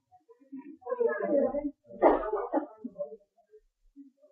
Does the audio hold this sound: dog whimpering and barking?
yes